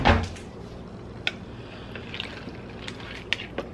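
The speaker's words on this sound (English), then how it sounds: "I am going to give it a stir." Ham and beans being stirred in a crockpot, giving a wet slosh at the start followed by scattered light clinks and scrapes of the spoon against the pot.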